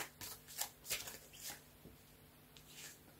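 Tarot cards are shuffled close by in several quick papery riffles and slides with short pauses between them, and no one talks.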